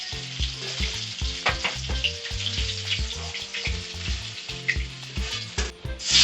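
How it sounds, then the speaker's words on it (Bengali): Fish frying in hot oil in a pan, a steady crackling sizzle with bursts of spattering, close and fairly loud alongside some clinking kitchen sounds. "মাছগুলো প্রায় ভাজা হয়ে গেছে।"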